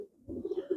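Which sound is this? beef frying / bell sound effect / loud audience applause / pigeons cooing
pigeons cooing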